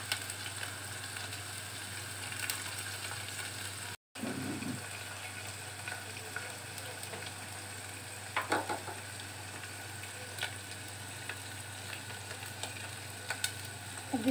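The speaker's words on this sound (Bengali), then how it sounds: "মশলাটা ভাজা হয়ে গিয়েছে" Chili and turmeric spice paste for a potato fish curry frying in a pan, a quiet continuous sizzle with a short silent break near the start and occasional stirring scrapes.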